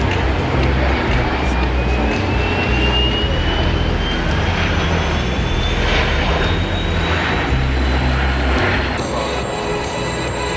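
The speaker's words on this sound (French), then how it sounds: "La patrouille de France s'apprête à décoller pour faire une démonstration de 25 minutes." Patrouille de France jets take off for an air display at an air base in Hyères, a loud, continuous engine roar with a rising whine, close and sustained throughout.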